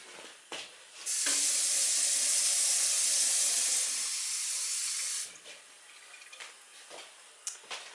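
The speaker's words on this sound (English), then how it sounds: "I'm just going to add a bit of water to this." Water pours steadily into a gravy pan in a bright hissing stream for about four seconds, then stops, leaving quiet clinks and small kitchen handling noises nearby.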